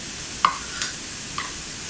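Sugar syrup mixture with milk cream for bottle gourd vadi is stirred in a pan, a low steady sizzle broken by two or three light spoon taps.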